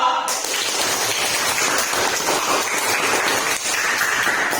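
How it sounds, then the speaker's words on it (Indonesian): Classroom pupils applaud group 2 after their project presentation, a loud, dense burst of clapping that continues steadily with a slight dip near the end. "beri tepuk tangan untuk kelompok 2"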